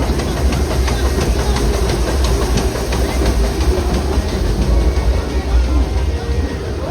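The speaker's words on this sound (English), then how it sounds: "there goes the Disneyland Railroad." Disneyland Railroad train rolling past at close range, a loud steady rumble with rhythmic clickety-clack of wheels on track that continues throughout, with faint voices mixed in.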